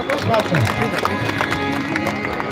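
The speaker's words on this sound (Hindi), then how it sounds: "एक बार जोरदार तालियों सर से आशीर्वाद लीजिए आप लोग" Audience applause at a theatre festival, a steady wash of clapping from a crowd filling the whole stretch, with voices talking over it.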